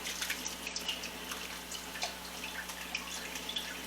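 Watermelon juice is poured into a container, a continuous trickling, dripping liquid sound that stays steady and moderately loud throughout, with no talking.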